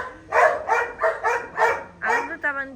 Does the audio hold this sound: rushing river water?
no